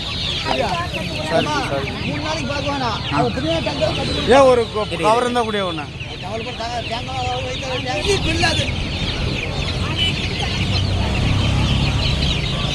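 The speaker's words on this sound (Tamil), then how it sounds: "நிறைய வெரைட்டியான கோழி வந்து இங்கே வச்சுருக்காங்க" Several chickens cluck and squawk in a busy, noisy setting like a market, with people talking over the birds throughout.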